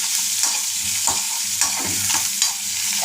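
Dried red chillies and a little onion sauté in a hot pan, a steady sizzle with scraping stirs recurring every half second or so, close and continuous, no voices.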